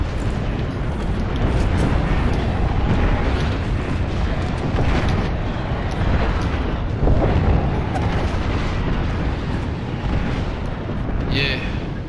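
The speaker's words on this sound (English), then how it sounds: "Airstrike danger close." Airstrike explosions in a battle royale shooter: a dense, continuous roar of rumbling blasts and debris, with players' voices talking over the din.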